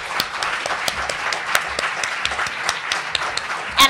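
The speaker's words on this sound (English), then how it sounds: "So a round of applause for our panelists." A conference audience at a legal convention on the rule of law applauds its panelists. The clapping is a steady, crowd-wide patter that fills the whole stretch, with a slightly louder burst right at the end.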